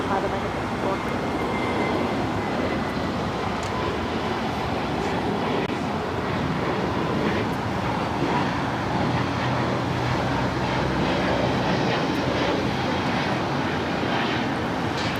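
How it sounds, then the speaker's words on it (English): A Spirit Airlines A320neo takes off at LAX bound for Houston Intercontinental, its jet engines producing a sustained broad roar that holds steady and fairly loud over the full span. "591 taking off to Houston Intercontinental on the A320neo"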